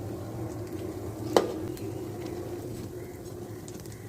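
Potato masala bondas frying in moderately hot oil give a steady, even bubbling hiss close by, broken once by a single sharp utensil clack, with no voices.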